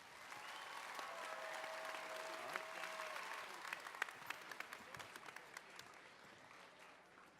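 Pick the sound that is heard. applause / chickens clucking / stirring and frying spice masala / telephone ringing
applause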